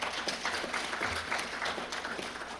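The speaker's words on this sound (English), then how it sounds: "we give him a round of applause as well." Audience applause at a bioeconomy forum session in Hawaii, a steady wash of many hands clapping at moderate level throughout, fairly distant and unbroken.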